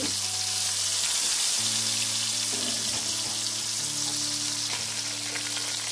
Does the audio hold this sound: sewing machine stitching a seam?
no